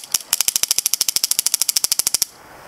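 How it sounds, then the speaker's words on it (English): A Spyder Fenix paintball marker fires in ramp mode, a fast, even burst of about two dozen sharp pops close by, with a short single shot, a brief pause, then the steady run before it stops. "So you just click the trigger for 3 times repeatedly, and it will start firing."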